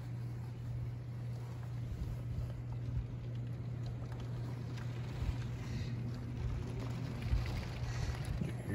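Steady wind during a rainstorm, a constant broadband rush with a low hum underneath and occasional gusts and thumps, with no talking.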